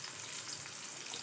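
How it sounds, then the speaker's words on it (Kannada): Onion and tomato fry in oil in a pot for chicken sambar, a steady, close sizzling hiss with no gaps. "ಟೊಮೊಟೊನ ಫ್ರೈ ಮಾಡ್ಕೊಳ್ತಾ ಇದ್ದೀನಿ"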